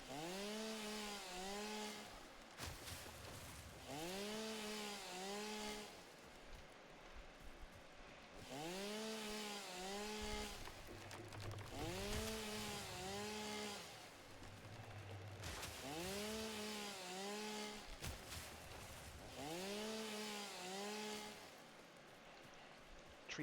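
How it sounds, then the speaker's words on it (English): A chainsaw cutting trees in the Satisfactory video game revs in repeated rising and falling bursts, each a few seconds long with brief pauses between, loud and close with no talking. "Apologize for the loudness of chainsaw,"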